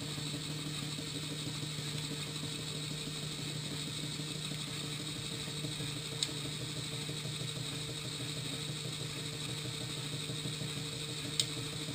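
Geared servo motor driving a pneumatic valve switch under air pressure, a steady mechanical whir and hum with a constant gear drone and a couple of faint clicks, continuous throughout with no talk.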